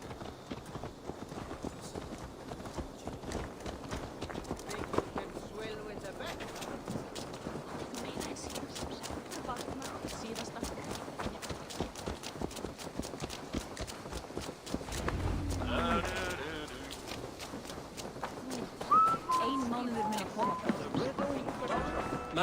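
Horse hooves clip-clopping at a steady trot in Assassin's Creed Valhalla, a continuous rhythmic patter under ambient game sound, with characters talking over it partway through.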